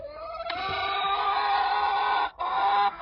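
A hen clucking close by in a run of throaty, repeated calls, with brief pauses and faint background noise.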